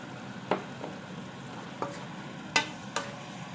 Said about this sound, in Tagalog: Lagyan na natin ng oyster sauce para ano